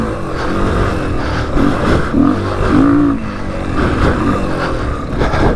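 A worn-out Honda XR200 dirt bike engine revs and labors over a rough, rutted motocross track, its loud, close engine note rising and falling in uneven surges.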